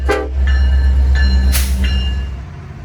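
Kansas City Southern domestic intermodal freight train passing on the Meridian Speedway at Meridian, Mississippi: a loud, steady low rumble of rolling cars with repeated horn blasts sounding over it.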